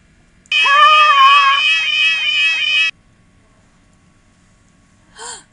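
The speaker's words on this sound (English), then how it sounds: "one of my cats meowing in the background" A house cat meows once, loud and close, a drawn-out cry of about two and a half seconds, followed by a short faint chirp a few seconds later.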